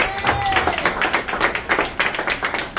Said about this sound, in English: Everyone, clap it up for them.